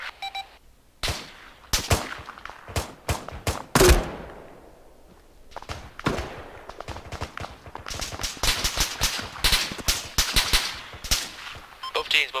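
Video game gunfire bursts out after an order to open fire, with rapid sharp shots and clustered volleys in a close, loud firefight, along with occasional radio-style speech.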